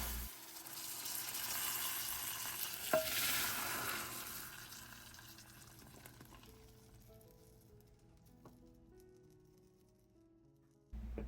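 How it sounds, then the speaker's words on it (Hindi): Curry leaves fry in hot oil for a dal tempering, stirred in the pan. A soft sizzle gradually fades, with a couple of faint utensil taps and no voices. "कड़ी पत्ता डाल के थोड़ा हिलाएं घुमाएं, उसका कलर भी चेंज हो जाएगा और दाल के ऊपर बघार लगा दें।"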